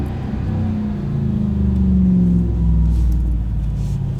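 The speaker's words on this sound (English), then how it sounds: "throw it into manual and listen to the downshifts" A RAM 1500 TRX with an MBRP 3-inch cat-back dual rear exit exhaust rumbles deeply through manual downshifts, the engine note rising briefly with each shift, close and steady.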